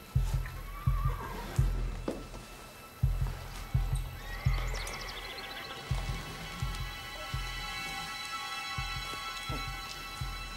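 A horse neighs in long whinnies early on, over a steady run of heavy, evenly spaced thuds that sound like hooves, with a constant background hum.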